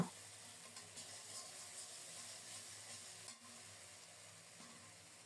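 A mustard and poppy seed paste with green chili and salt fries in a pan, a faint steady sizzle with soft intermittent stirring scrapes and no voices.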